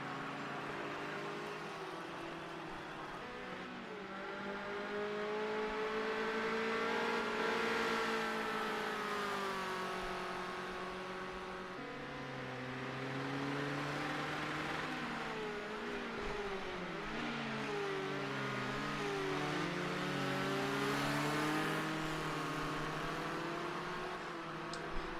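A race car engine screams at high revs around 7,000 RPM during a Premier Racing League round at Sonoma, a continuous sustained whine rising and falling in pitch with gear changes, moderately distant.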